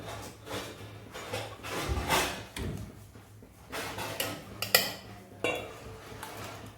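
A spoon scraping and clinking around a pan while chutney is stirred into a hot tempering, with irregular metallic scrapes and knocks at close range, no voices.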